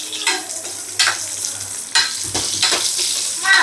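Sun-dried vathal dropped into hot oil, loud bursts of sizzling that rise and fall with a few sharp stirring scrapes, close and steady.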